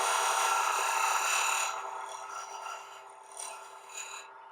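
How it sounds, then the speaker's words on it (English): A skew chisel scraping a spinning wooden workpiece on a lathe, a steady bright rasping hiss that starts loud, then softens into lighter, uneven scraping with a couple of brief swells. "in that motion, I was not cutting. I was actually scraping"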